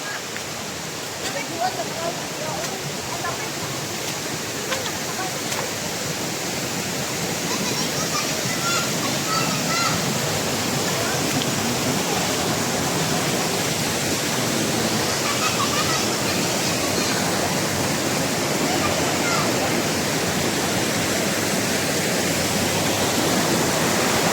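A steady, dense rush of falling water roars without a break, broad and constant, from Heaven Falls waterfall in Davao de Oro, Mindanao, nearby.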